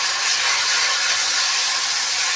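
Paste sizzles in a hot pan while an Assamese dish is being cooked, a loud, steady, close frying hiss with no breaks.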